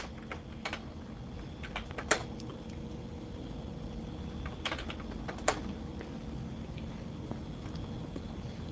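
Someone types on a computer keyboard, steady close clicking of keys with a few sharper louder strikes, continuous and alone without talk.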